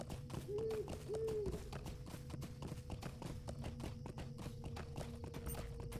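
Horse hooves clop in a steady, quick rhythm while riding in the online game The Lord of the Rings Online (LOTRO), soft and even over a faint background hum.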